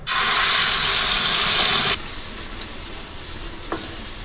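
Ground masala gravy hitting hot oil in a kadhai gives a loud, steady sizzle for about two seconds, then drops to a quieter crackle with a faint clink near the end.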